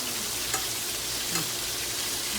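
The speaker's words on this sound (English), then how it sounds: "What that butter is doing is flash frying all those herbs and garlic." Steady, loud sizzling and frying from a hot pan as butter with herbs and garlic bastes a beef tenderloin steak, with a couple of faint pops over the constant crackle; no voices.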